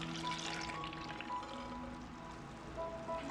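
Milk, four cups, poured into instant pudding powder for an icebox cake, a quiet continuous liquid stream lasting a few seconds, close but soft.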